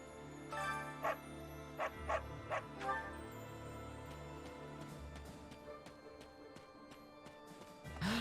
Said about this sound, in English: there was a dog barking